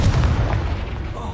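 Confringo fire spell cast repeatedly in Hogwarts Legacy, a dense run of booming blasts and crackling bursts filling the short stretch without pause.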